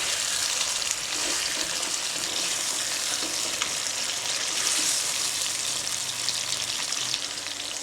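Chopped tomatoes and green chillies sizzle in a pan for balti mutton, a loud continuous crackling fry with occasional stirring, close by.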